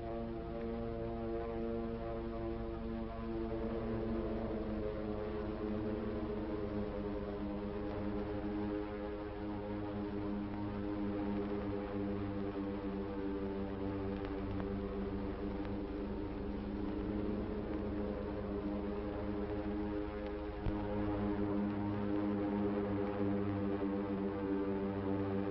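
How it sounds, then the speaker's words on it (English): Several propeller airplanes of the 1941 Pearl Harbor attack approach from over the Pacific, a steady, layered engine drone that holds evenly and fairly full throughout, with no voices. "It was 7:50 a.m. by the clock on the Aloha Tower when the drone of planes was faintly heard."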